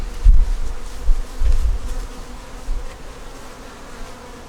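Bees buzz around an open double-deep eight-frame beehive, a dense, close, steady hum with a few louder swells as individual insects pass near, and no voices.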